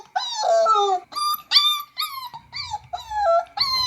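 A pet dog named Charlie whimpers and howls in a run of rising, wavering cries, close and loud, with short breaks between yelps and a low growl near the end.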